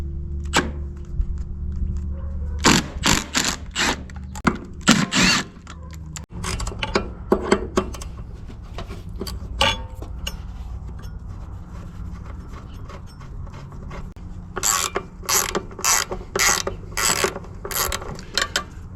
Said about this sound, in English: I'm going to start with these main tank